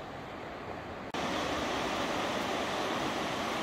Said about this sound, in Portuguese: O rio ali embaixo